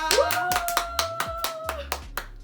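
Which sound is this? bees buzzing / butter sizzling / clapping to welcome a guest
clapping to welcome a guest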